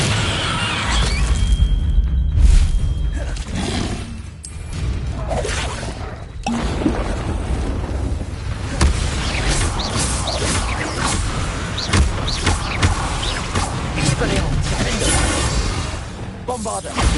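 Bombarda blasting spells exploding in the video game Hogwarts Legacy, a dense run of booms, crashes, whooshes and shattering impacts. Loud and sustained across the fight, with several sharp hits standing out.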